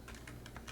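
A quick burst of about five keystrokes on a computer keyboard, soft and brief with crisp clicks in quick succession and no voice.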